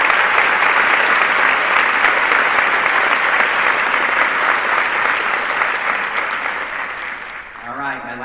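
Dense, loud applause from a commencement ceremony audience honoring National Merit Scholars, a sustained roar of many hands that fades toward the end as a voice begins to speak.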